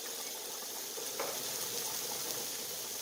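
Vegetables and chicken sautéing in a pan for a chicken spaghetti stir fry with a spice blend, giving a steady soft sizzle throughout with a faint stirring scrape near the middle.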